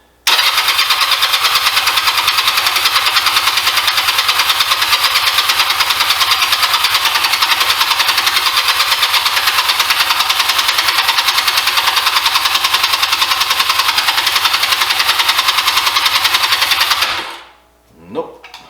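A 2004 Honda Rebel 250 motorcycle engine cranks steadily and loudly for about seventeen seconds without catching, a continuous whirring starter drone with a rapid repetitive beat, then cuts off abruptly into near silence.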